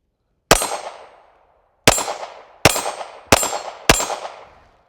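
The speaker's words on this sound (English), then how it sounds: "I'm going to fire a few rounds" Five sharp handgun shots ring out alone during grip and stance practice, each a hard crack with a short decaying tail, the first standing apart and the last four fired in a quick steady string.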